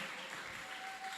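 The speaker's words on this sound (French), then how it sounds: "Acclamons très fort le Seigneur." A church congregation applauding at a celebration service, a brief, steady wash of clapping heard fairly faintly.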